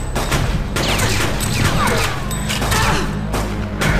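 Rapid pistol shots in the Fear Effect video game, a dense burst of loud cracks and impacts fired in quick succession over steady game noise.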